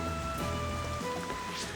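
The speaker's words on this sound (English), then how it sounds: "It's raining." Steady rain falls in the Xenoblade Chronicles Definitive Edition video game, a constant hiss of raindrops on surfaces with faint game tones underneath, even and unbroken throughout.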